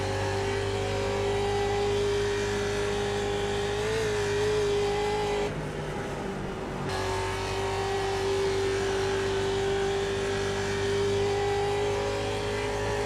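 Ford Mustang race car fitted with antique suspension, its engine holding a loud, steady roar through a racing lap, with a brief dip in the note midway before it builds back up.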